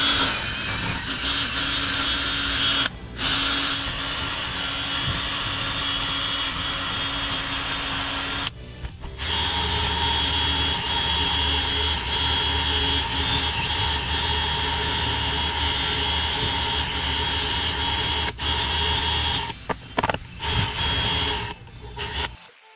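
A power tool fitted with a wire brush scours old paint from the body of an old patrol truck, a steady, loud abrasive rasp running almost without pause, broken by a few short stops.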